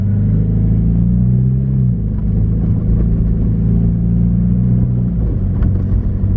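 A car rolls along a city street through Skid Row in Los Angeles, its engine giving a loud, steady, close low rumble with a slight dip in pitch partway through, and no voices.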